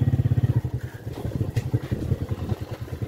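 A motorcycle rides up toward a railway station, its engine close and loud with a chugging, pulsing beat that dips briefly and then returns, with no speech over it.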